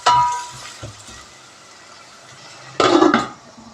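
Chopped onions for chicken curry frying in a pan, a soft steady sizzle with a few stirring scrapes and a louder burst of frying noise near the end.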